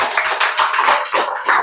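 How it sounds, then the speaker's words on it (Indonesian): A small group of people claps for a presenting group, a few close, uneven bursts of hand claps that come in quick rhythmic clusters. "Oke, tepuk tangan buat kelompok 3."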